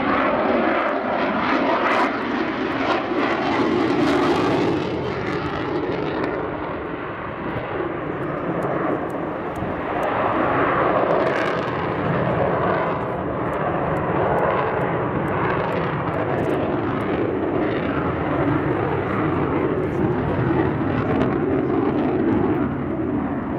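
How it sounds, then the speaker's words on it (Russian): A MiG-29M OVT fighter jet roars overhead at Ramenskoye airfield with a broad, sustained rumbling whoosh that swells and fades slightly, loud and continuous. "Самолет МиГ-29М ОВТ."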